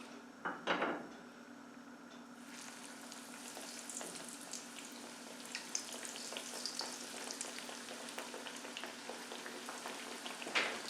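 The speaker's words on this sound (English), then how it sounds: "See how gently they're frying?" Food fries gently in olive oil at 350 degrees with a soft, steady sizzle throughout, plus a brief clatter of utensils near the start and faint pops later.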